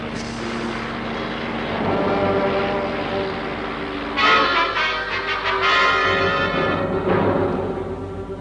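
An aircraft flies at night in a film, its engine drone steady and fairly loud before swelling into a stronger, rising roar partway through.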